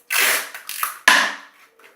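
Adhesive tape being pulled off its roll, a few close ripping pulls in quick succession, the last one sharpest, no talk.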